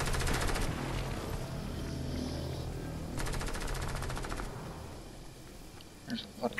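Rapid video game gunfire in two sustained bursts of automatic shots, loud and close, over a continuous game soundscape, with a voice speaking near the end.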